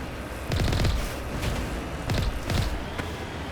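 Guns and cannons fire in the Mass Effect Legendary Edition video game, loud, close rapid bursts in several clusters with booming low thuds between them and no talk.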